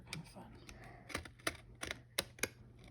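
Pinking scissors cut zigzag edges into fabric during a beginner sewing lesson, giving a run of sharp, crisp snips close by, spaced irregularly over a soft background.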